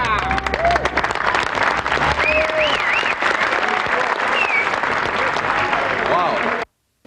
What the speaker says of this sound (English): Let's give a little applause to these guys.